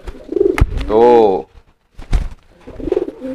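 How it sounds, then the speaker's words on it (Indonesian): A trained fantail pigeon gives a loud, close, drawn-out coo, with someone talking before and after it. "beda halnya dengan merpati yang sudah terlatih seperti ini"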